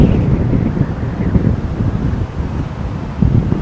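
Strong storm wind gusts roar and buffet the microphone at Heathrow Airport, a loud, continuous low rumble with surging peaks near the start and end, no speech.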